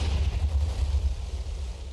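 A deep rumbling TNT cannon explosion in a video game, a heavy low boom that rolls on steadily for about two seconds without a clear onset or pause.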